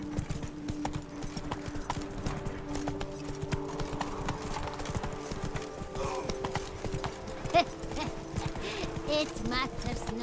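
Horse hooves clip-clop steadily in a Witcher 3: Blood and Wine game scene, a moderate rhythmic trot set against a low steady ambient hum, with a voice briefly speaking over it.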